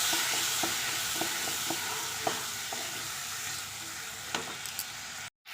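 Potatoes seasoned with salt and turmeric sizzle in a frying pan while a utensil stirs them, giving a steady hiss with periodic scraping taps against the pan, close up and without talk before a brief cut at the end.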